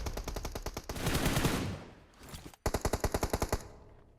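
Rapid automatic gunfire bursts in a PUBG Mobile esports match, loud, close rattling volleys of shots, a sustained spray in the middle, then a brief lull and another crisp burst of evenly spaced shots.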